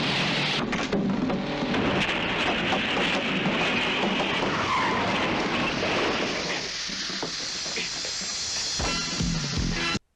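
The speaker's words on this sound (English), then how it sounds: "In the beginning, there's like this crazy car chase that's like something out of the Fast and Furious movies." A frantic car chase in the Police Story film: tires skid and screech inside a dense, roaring wall of engine noise and crash-like rumble that stays loud for ten seconds, then cuts off abruptly.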